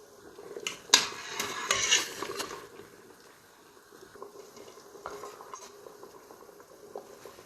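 A spoon scrapes and clinks against a pan while thickening plum chutney syrup bubbles softly, with a few sharp metallic taps early on and quieter stirring afterward.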